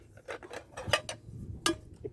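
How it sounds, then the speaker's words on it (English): An old-style metal cook set being handled, its pan and pot knocking and clinking together in several light, close metallic clanks and rattles. "in here I have a old style cook set, and it includes"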